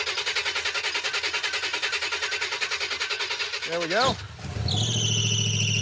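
A Super Camaro engine cranks with a rising starter whine, then catches and settles into a loud, steady idle up close, with someone briefly speaking over the start.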